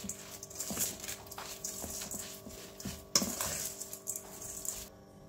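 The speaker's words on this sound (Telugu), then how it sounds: "సరిపడా మిర్చి పౌడర్, కొంచెం జింజర్ గార్లిక్ పేస్ట్ అన్నీ వేసి ఒకసారి మంచిగా మిక్స్ చేసుకోండి" Chili powder, curry leaves and ginger garlic paste being stirred together in a metal vessel for sorakya roti, with repeated scraping and clinking strokes at a steady close-up rhythm and no talking.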